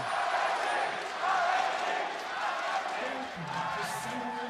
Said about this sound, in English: A lot of cheers in the crowd for RNG.